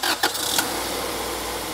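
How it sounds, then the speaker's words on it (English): A car engine cranks briefly in a few short bursts, catches and settles into a steady idle. "Well, with the engine running,"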